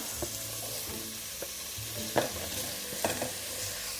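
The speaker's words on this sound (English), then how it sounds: "Okay, so courgette going in." Chopped courgette goes into a pot of simmering vegan miso broth, giving a steady soft sizzle and bubbling with a few light clinks and stirring knocks, close by and no talking.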